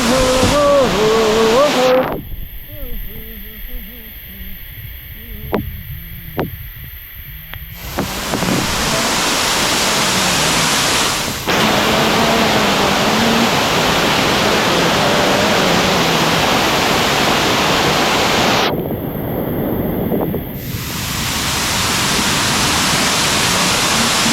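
A hidden waterfall in Asud village in the Konkan region roars as a steady, loud wash of water noise, broken by a couple of brief quieter gaps and low thumps.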